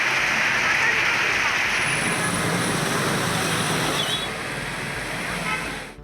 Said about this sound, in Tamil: சூரமங்கலம், கொண்டலாம்பட்டி பழைய பேருந்து நிலையம், புதிய பேருந்து நிலையம், 4 ரோடு உள்ளிட்ட பகுதிகளில் பரவலாக கனமழை பெய்தது.